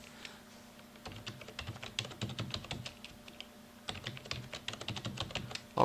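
Someone types a password on a computer keyboard of an old Pentium 4 machine, with quick irregular clusters of light key clicks, a short pause, then another burst, close and quiet over a low hum.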